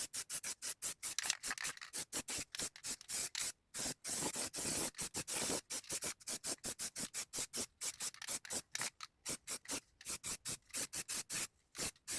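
A rusty spare wheel from a Citroen Xsara Picasso being sprayed with high-build primer: rapid, repeated short hissing bursts from an aerosol can in an uneven rhythm with brief pauses, close and loud, with no talking.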